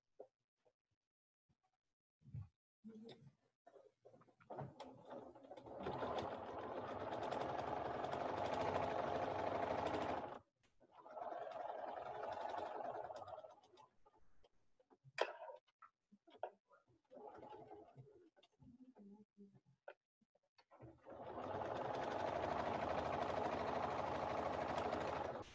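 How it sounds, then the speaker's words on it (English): Sewing machine with an edge stitch foot running steady stretches of stitching around a fabric piece, a close mechanical whir in three long runs separated by quiet pauses and small handling clicks. "I'm going to just leave my edge stitch foot on and go around this twice."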